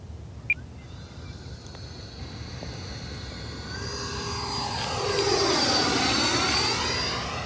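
An FMS 80mm Rafale RC jet with gear down and flaps out makes a slow pass, its ducted-fan whine swelling from a distant hum to a loud, close roar with a clear Doppler sweep as it goes by.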